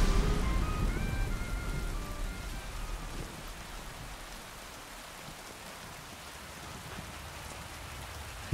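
Rain falls during a storm as a continuous hiss, heavier at first and then settling to a softer steady patter, ending with a sudden sharp knock.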